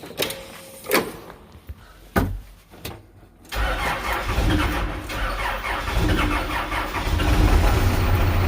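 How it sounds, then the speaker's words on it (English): A backhoe's engine cranks in a few short, sharp bursts, then catches and settles into a loud, steady diesel run that continues to the end, with no talking. "Think the backhoe will start today?"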